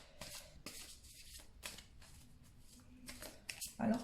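Tarot cards are shuffled and drawn by hand in a quiet room, with soft, brief riffling and sliding bursts separated by short pauses, faint and close, mixed with light handling noises.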